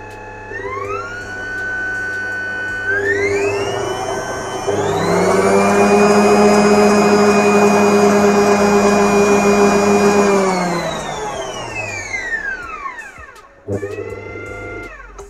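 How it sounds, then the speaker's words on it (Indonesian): A Bosch MUM Serie 2 stand mixer runs close and loud with a steady electric motor whine that ramps up in pitch to speed 4, holds there, then winds down and briefly restarts. "Coba saya mau coba yang speed 4."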